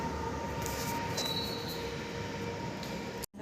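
A train rolls past on an early, rainy morning with a steady, loud rumble of wheels and carriages and thin metallic squeal tones running through it. The sound continues alone until it cuts off abruptly at the end.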